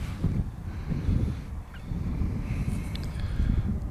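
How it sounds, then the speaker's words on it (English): Wind gusts at an RC plane flying field, a steady low rumbling buffet against the microphone, continuous and fairly loud with faint higher sounds in the distance. "The wind is picking up so much"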